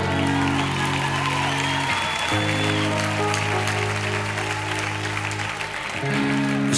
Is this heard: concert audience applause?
yes